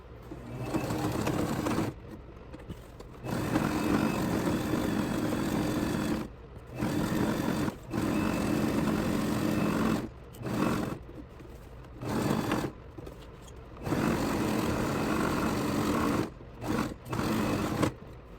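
Sewing machine back stitching the corner of a fabric bag, running in loud steady bursts of whirring stitches that stop and restart repeatedly with short quiet pauses between runs.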